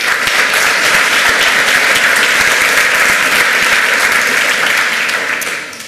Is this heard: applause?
yes